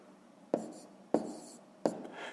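Pen strokes on paper while numbers are written for a fifth-grade decimal addition exercise, three short distinct scratches spaced about half a second apart, quiet and close.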